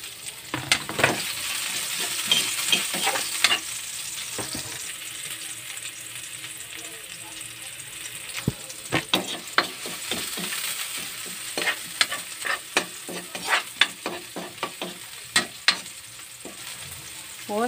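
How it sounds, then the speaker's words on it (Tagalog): Garlic and onion sauté in a hot pan, a steady sizzle broken by repeated sharp scraping and clattering strokes of a utensil stirring, loud and close with no talking. "Gisa na natin ang bawang saka sibuyas."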